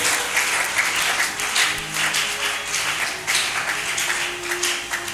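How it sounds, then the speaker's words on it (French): A church congregation applauds during a sermon, producing dense, continuous clapping that holds steady for the whole stretch with only slight swells. "Acclamez pour tout le Seigneur."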